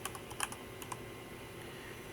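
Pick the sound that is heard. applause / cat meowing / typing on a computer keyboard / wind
typing on a computer keyboard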